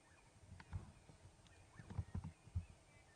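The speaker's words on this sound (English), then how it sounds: "Just the odd bird, 1 or 2." Odd bird calls drift in from far off over a quiet early-morning safari landscape, just a few faint, scattered chirps against near silence.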